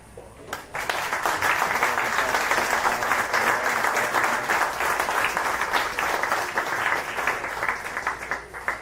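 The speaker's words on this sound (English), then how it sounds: "Oh, big round of applause." Spectators at a 9-ball pool semifinal burst into applause after a sharp opening knock, a steady rain of clapping from a moderately distant crowd that carries on evenly without voices over it.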